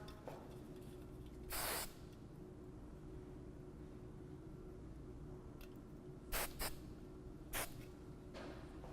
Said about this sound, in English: we're just going to make sure we spray that down a lot so it doesn't move around